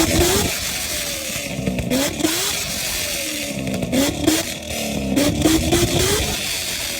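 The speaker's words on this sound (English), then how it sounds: "Start the ZL1. All right, start the ZR1!" A Chevrolet ZR1 supercharged V8 fires up and revs in several sharp, rising bursts, loud and close, with a rough idle between the blips.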